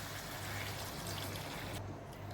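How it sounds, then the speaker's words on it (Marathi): Hot water poured into a pan of sautéed raw banana vegetable, a steady close splash and trickle that runs throughout and eases slightly near the end. "त्यामध्ये आपण गरम पाणी ओतूया"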